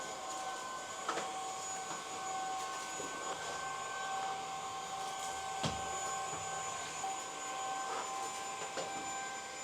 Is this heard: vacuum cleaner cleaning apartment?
yes